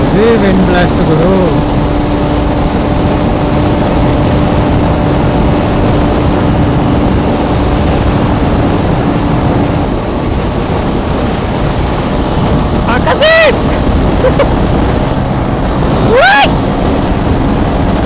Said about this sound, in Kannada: ವಿಂಡ್ ಬ್ಲಾಸ್ಟ್ಗಳು.